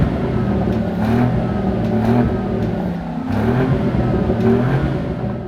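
Start-up of a Lamborghini Urus SE Performante plug-in hybrid SUV: a loud, steady, close engine drone that swells and settles in slow waves, with a deep rumbling tone and no voices.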